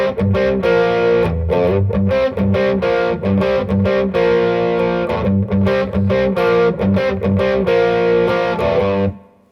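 Distorted electric guitar plays a riff, a blues shuffle in G, with a loud, steady chugging rhythm that cuts off at the end.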